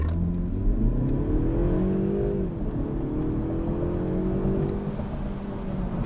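A Mercedes-Benz CLE 300 Cabriolet accelerates hard in Dynamic Sport mode, its engine note rising steadily in pitch, dipping briefly at a gear change, then climbing again. The sound is close and sustained, with road and wind noise underneath.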